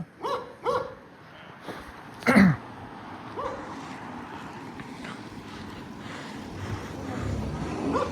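Dog barks outdoors in a few short bursts, loudest near the start and around the two-second mark, over steady wind and distant background noise.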